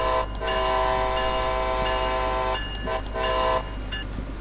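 A train in Train Sim World on the North East Corridor, New York, sounds its horn in long sustained blasts with brief breaks between them over a steady low rumble of rolling wagons.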